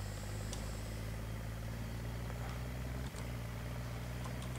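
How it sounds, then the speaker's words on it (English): Tractor engine in Farming Simulator 2013 runs at a steady, droning idle-to-rev hum for several seconds, constant and moderately loud with no talking. "And it revs up the engine."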